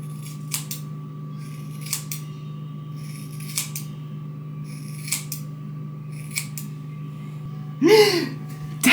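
Scissors snip hair in a few spaced, crisp cuts over a steady background hum, close by, ending with a brief exclamation.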